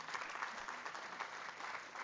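An audience in an auditorium at a student graduation event applauds, a dense, steady wash of clapping heard from a distance at low level for a couple of seconds.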